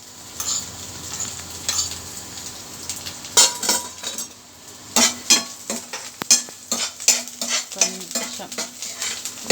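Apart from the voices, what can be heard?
stirring vermicelli (semiya) in a hot pan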